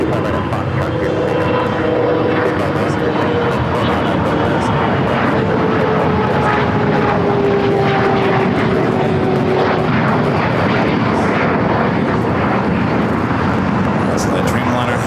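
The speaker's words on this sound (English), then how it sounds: "So the Dreamliner heading up there to the north side" Airliner engines roar steadily at a busy LAX runway, a Boeing 787 Dreamliner moving toward the north side, the loud broadband rumble continuing throughout with a faint tone sliding gently downward and speech over it.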